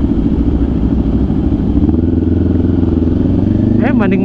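A KTM 790 adventure motorcycle rides a rough trail, its engine droning steadily and close throughout with clattering over the rough ground, while people talk over it.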